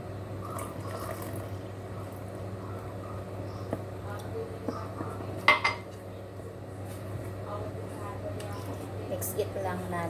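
A utensil mixes banana batter with water in a bowl, giving soft scraping with scattered clinks and one sharper knock midway, alongside a low steady background hum.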